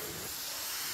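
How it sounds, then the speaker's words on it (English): A handheld steamer hisses steadily across quilt leaders on a longarm quilting frame, a continuous close, even spray of steam for the full length with no talking. "So I'm going to steam. All the way across."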